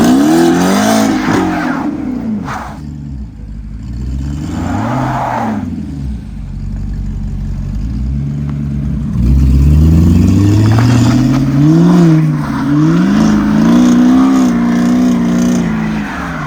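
A car engine revs hard and loud, rising and falling in pitch over several bursts, with a deep rumble throughout.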